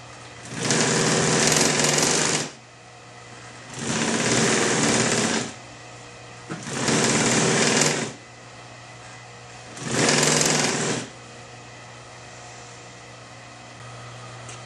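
A sewing machine stitches a seam for wing chair upholstery in four separate bursts of about two seconds each, with a loud, even whirring buzz and short pauses between the runs.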